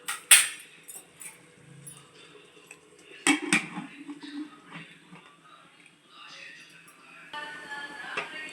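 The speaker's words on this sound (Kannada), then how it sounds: "ಈ ಲಿವರ್ನ ಸ್ಮೂತಾಗಿ ತಿರುಗಿಸಿ, ಅದು ತುಂಬ ಸಾಫ್ಟ್ ಇರುತ್ತೆ." Liver pieces being turned gently in a pan for a liver curry, bringing close, bright metallic clinks and scrapes of a utensil against the pan in scattered bursts, with quiet gaps and faint background sounds between.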